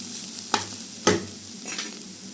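Drumstick stems frying in a pan, a soft steady sizzle broken by three quick spatula scrapes and knocks, close and quiet, with no voices.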